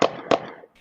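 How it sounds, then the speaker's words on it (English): Two sharp gunshots crack out on San Jose Boulevard in Orlando, about a third of a second apart, each loud and ringing briefly off the street before a faint trailing rustle. "The shooter fired again from further down the street."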